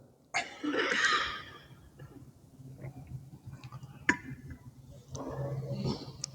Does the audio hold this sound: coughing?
yes